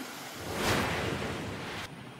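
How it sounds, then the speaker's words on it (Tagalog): Floodwater rushes through a street in Atimonan, Quezon, making a steady, loud roar like surf that swells briefly in the middle and carries no voices. "Nagmistulang ilog naman ang kalyeng yan sa Atimonan, Quezon dahil sa pag-agos ng baha."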